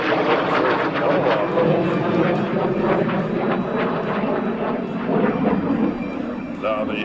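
An F-86 Sabre jet passes at an air show, its engine a loud steady rushing roar that fades slightly at the end, with a commentator talking over it.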